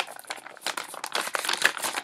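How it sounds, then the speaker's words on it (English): Paper with items glued to it crinkles close up, a dense run of crisp rustling and crackling handling noises, fairly loud and alone. "I like the way paper sounds like when it has stuff glued to it, like the crinkly sound."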